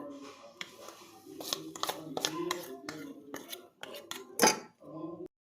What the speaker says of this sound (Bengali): এখন আমি বাটিটাতে অল্প তেল মেখে নেব।